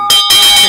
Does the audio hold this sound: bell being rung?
yes